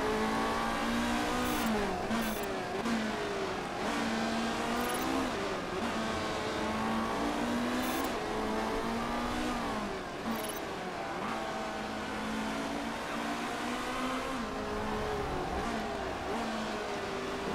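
Race cars in the racing management game Motorsport Manager, engines screaming and rising and falling in pitch as several cars pass in close succession, loud and continuous, with no talk.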